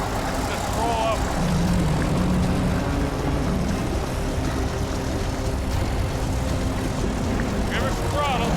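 Heavy tow truck engine held under throttle during a mountain snowstorm rescue, a loud continuous low roar that stays steady throughout, with people talking over it.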